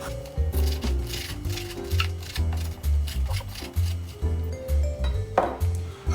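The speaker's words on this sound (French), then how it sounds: "Ce qu'on va faire, on va tout d'abord découper le persil." A knife chops fresh parsley on a board in quick, steady rhythmic cuts, close and fairly loud, with light music playing underneath.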